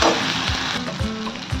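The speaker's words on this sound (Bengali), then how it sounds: "এবার এটাকে হালকা করে একটু ভেজে নিলাম।" Onion with ginger-garlic paste fries in a pan, a loud, close crackling sizzle punctuated by several low thumps of stirring, without any voices.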